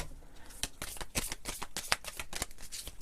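Tarot cards are gathered and riffled back into the deck in quick, crisp bursts of flicking card edges, close up and dry, with no talk over them.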